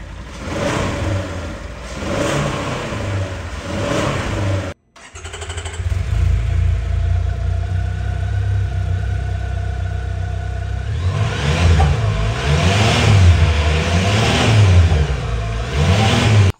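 A side-by-side UTV's engine, a CFMOTO U10 Pro or Polaris Ranger XP 1000, idles, cuts out briefly, then restarts and runs steadily before revving up and down in repeated surges, loud and close with no talking.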